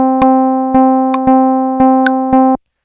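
Ableton MIDI polyrhythm squeezing seven notes into the span of two, played as six evenly spaced bright plucked synth tones with decaying tails and occasional higher ticks, clear and isolated before stopping abruptly.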